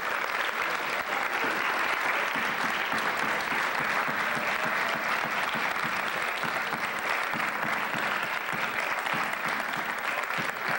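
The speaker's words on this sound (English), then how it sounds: "Graduates, I ask you to lead us in the applause" Sustained applause at a school graduation as parents and grandparents stand, led by graduates; a large crowd clapping steadily and evenly throughout, heard from some distance in a hall.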